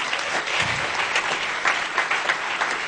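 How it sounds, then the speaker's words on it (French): Congregation applauding in a church service, a steady dense wash of many hands clapping throughout, fairly loud and continuous with no talk over it. "Acclamez pour vous-même"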